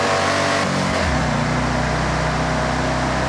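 A stock car in Forza Horizon 6 accelerates in fourth gear, its engine droning loudly and steadily as the pitch climbs slowly under constant road noise, with no voices.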